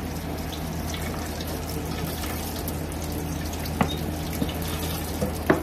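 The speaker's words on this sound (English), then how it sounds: "I wash my hands" Water running steadily from a tap as hands are washed at a sink, a constant close hiss with a few small splashes and knocks, no voices.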